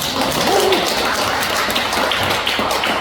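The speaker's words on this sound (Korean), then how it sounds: "박수 한번 쳐주세요." Church audience at an evening camp gathering gives a short burst of applause, steady clapping throughout the few seconds.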